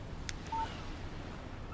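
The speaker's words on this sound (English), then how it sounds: "Text message from Barry." A short electronic text message chime from a phone in Alan Wake Remastered, a single brief tone heard faintly over a quiet ambient background.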